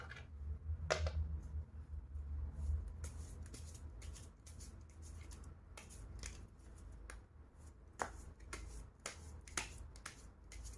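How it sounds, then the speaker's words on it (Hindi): Tarot cards being shuffled by hand during a reading, crisp snapping riffles and slaps in irregular bursts, close and moderately loud, with no talking. "Let me shuffle the cards for you."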